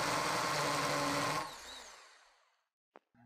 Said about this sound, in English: grab your drill, put it right onto that mark, then we're going to go ahead and drill out the holes